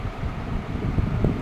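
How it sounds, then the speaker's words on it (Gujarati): Strong wind gusting during an unseasonal spell of rain and hail, a steady low rumbling roar buffeting the microphone with no voices. "બરાબરનો પવન ફૂંકાયો"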